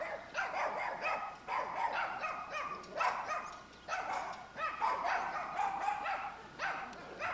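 Several dogs in a village near Dęblin, Poland, bark repeatedly in close, irregular bursts, one overlapping another at moderate distance.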